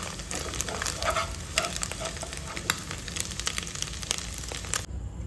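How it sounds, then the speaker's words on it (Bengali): Scrambled egg bhujia fries in a home kitchen pan, a dense, steady sizzle with crackling and the scrape of a spatula stirring throughout, close and fairly loud. "এখন হচ্ছে ডিমের ভুজিয়া।"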